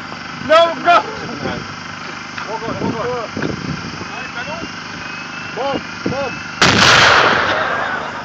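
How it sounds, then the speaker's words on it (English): Explosions from bombs going off, with one loud, broad blast near the end following scattered shouting voices and sharper bursts earlier on. "Bomb! Bomb! Bomb! Bomb!"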